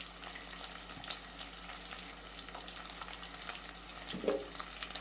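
Curry leaves crackle and sizzle in hot oil for Andhra-style upma, a steady frying hiss with a few sharper pops, no voices.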